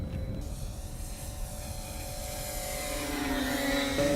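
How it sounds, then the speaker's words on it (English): Twin-motor RC model B-17 profile airplane flying overhead, a steady buzzing drone of two electric motors that holds level and swells slightly louder near the end. "Twin motors sound good."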